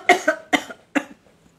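Three sharp coughs in quick succession, close and fairly loud, followed by a faint exhale.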